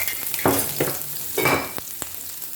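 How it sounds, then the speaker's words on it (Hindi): Crushed garlic and ginger sizzling in hot oil, with a few bursts of stirring that flare the frying noise at a close, moderate level; no voices. "ये लहसुन और अदरक मैंने डाल दिया कूट के"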